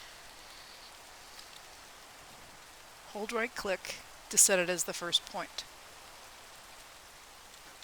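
Steady rain hisses softly throughout a Minecraft world in the Craftoria modpack, a constant even patter in the background, while a voice speaks for a few seconds over it.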